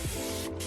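A spray bottle mists water onto type 4 hair in one short, hissing burst close by that is loud and steady and is heard alone.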